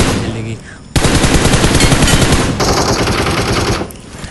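Sustained automatic gunfire in the mobile battle-royale game PUBG Mobile, a loud, dense burst of rapid shots lasting about three seconds that then fades to a shorter trailing burst, with no talking.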